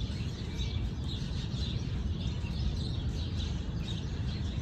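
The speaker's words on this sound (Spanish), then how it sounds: "Ah, los pajaritos." Little birds chirp faintly in repeated short tweets over a steady background hum, with no voices present.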